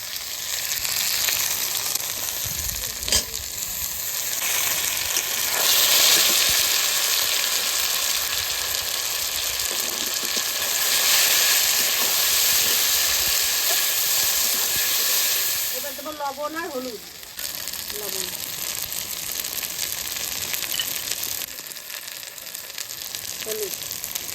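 Onion, ginger, garlic, cumin and dried chilli fry together in a pan, giving a loud, continuous close-up sizzle with a hissing, steamy edge that dips briefly and eases slightly toward the end.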